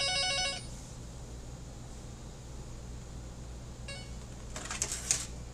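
A telephone rings with bright electronic tone bursts, a short ring at the start and another near the end, followed by a flurry of clicks, all over a low steady hum.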